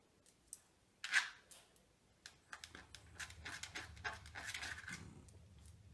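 A hungry poodle taps at a refrigerator door at home, a run of light, close knocks and scratches that quicken and cluster toward the end, with occasional soft panting and no talk.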